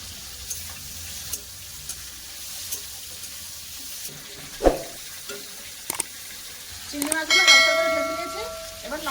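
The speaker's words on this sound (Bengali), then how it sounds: "পেঁয়াজ কোথায় ভেজে দিচ্ছি" Chopped onions fry in a pan with five-spice seeds and bay leaf, making a quiet, close sizzle with occasional clicks, and a voice comes in near the end.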